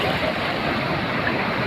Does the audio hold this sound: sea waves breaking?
yes